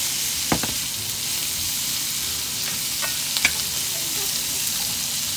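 Vegetables with Cajun seasoning, pepper and salt sauté in a pan with a steady, hissing sizzle, broken by a few scraping stirs.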